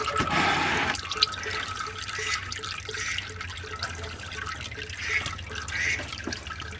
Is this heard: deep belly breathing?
no